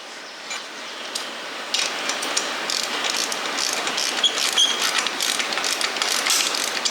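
Hand ratchet tightening a shock bolt on an MB200 minibike, a fast continuous clicking that starts lighter and becomes a dense, steady ratcheting close to the listener, with no talking.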